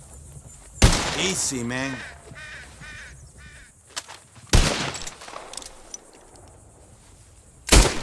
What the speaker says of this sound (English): Whoever shoots more of these bottles wins.